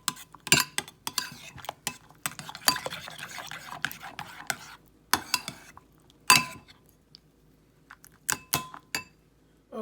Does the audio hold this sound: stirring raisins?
yes